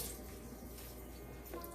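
A tap runs steadily for hand washing, a soft, continuous hiss of flowing water with no voices over it.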